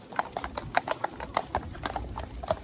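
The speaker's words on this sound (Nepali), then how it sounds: "घोडा आइरहेछ है गाइस" A horse walks along a forest trail, its hooves clip-clopping in an uneven, fairly quick series of distinct thuds at moderate distance with no talking.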